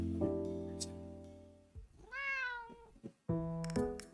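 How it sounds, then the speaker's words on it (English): In the anime-style video game Cafe DReAMLAND, a cartoon cat gives one clear meow between sustained electronic music tones. "And that's the cat, probably."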